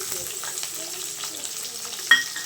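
Finely chopped onions with curry leaves frying in a pan for a Rayalaseema-style potato and egg curry, a soft steady sizzle with light stirring and a brief clink near the end.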